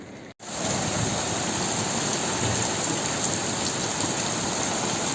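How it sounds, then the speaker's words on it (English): Heavy rain pours down steadily as a loud, dense, continuous hiss with no break after a brief dropout at the very start, falling above a bedroom during flooding. "I would go as far as to say that's a medium downpour"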